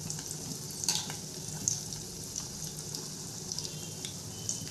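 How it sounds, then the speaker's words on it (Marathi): Chicken lollipops fry in oil over medium heat with a steady, close sizzle. Scattered sharp crackles and pops rise above it throughout. "खालच्या बाजूने देखील आपण अशाच पद्धतीने 3 ते 4 मिनिटे हे लॉलीपॉप व्यवस्थित मध्यम आचेवरती तळून घेणार आहोत"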